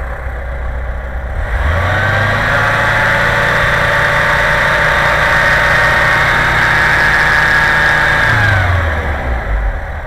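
A VW Vanagon T3 with a 1.9 litre engine, running rich and hard to start when warm, idles steadily and loudly up close, with a smooth continuous hum that rises slightly in pitch midway and settles back near the end.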